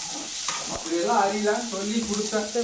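Onions sautéing in a pan for a Tamil okra curry, a steady close sizzle with a few stirring scrapes, no talk over it.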